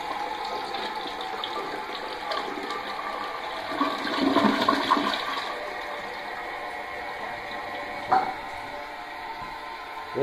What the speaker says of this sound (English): So I'm only gonna give you a flush for now. So here's the flush.